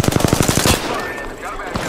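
Rapid automatic gunfire from a weapon in the Apex Legends video game: about a dozen quick, loud shots in a tight burst lasting under a second, then cutting off into quieter background ambience.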